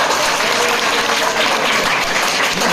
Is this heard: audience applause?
yes